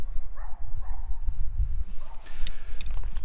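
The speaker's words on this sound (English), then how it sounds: "It's great having dogs out here barking." Dogs barking outside, a few short yips and barks at moderate distance over a low background rumble, scattered irregularly rather than in a steady rhythm.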